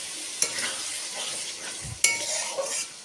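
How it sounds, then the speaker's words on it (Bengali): Spoon stirring a mankochu (taro) and fish curry in a sizzling pan after spice water is added, giving a steady frying hiss with a couple of sharp scrapes against the pan, close by and with no talk. "প্রথমে আমি মশলা ধোয়া জলটা একটু দিয়ে দিচ্ছি, দিয়ে একটু নাড়িয়ে নিচ্ছি আরেকবার।"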